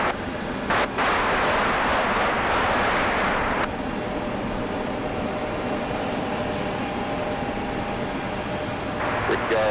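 Airliner taking off from runway 5 at Raleigh-Durham airport in rain, a broad steady engine roar, loud and sustained, with a brief swell near the start and rain-like hiss throughout, no talk.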